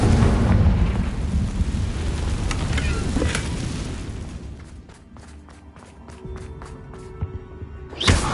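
A Confringo spell explodes in a video game with a loud, wide blast that rumbles and slowly fades over several seconds. A run of sharp ticking clicks follows, then a final thump.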